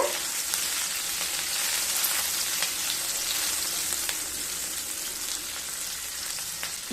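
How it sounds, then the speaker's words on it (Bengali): Chopped garlic and green chilli fry in hot oil, making a continuous, even sizzle at moderate volume, with a few sharp crackles and stirring ticks and no voices. "তেলের মধ্যে দিয়ে দেব কুচিয়ে রাখা দু চামচ রসুন এক চামচ কাঁচা লঙ্কা কুচি হালকা ভেজে নেব"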